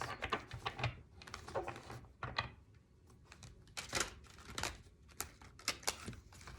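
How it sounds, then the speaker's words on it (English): Tarot cards shuffled by hand, a quiet close series of crisp flicking and riffling bursts in irregular clusters, with no talking. "These cards are very hard to shuffle."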